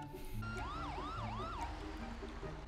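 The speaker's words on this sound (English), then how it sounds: "I'm getting the ambulance, Jerry" Ambulance siren in GTA 5 wailing in a rising and falling sweep, three quick cycles at moderate distance over steady game background noise.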